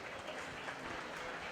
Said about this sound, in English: Give them a nice round of applause again